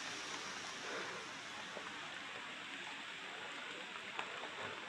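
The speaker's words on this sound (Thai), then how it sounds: "ฝนก็ยังปกแปกอยู่ฝนตกนะ" Rain falls outdoors on a hillside, a soft, constant wash of patter that stays even across the whole stretch, with no talking.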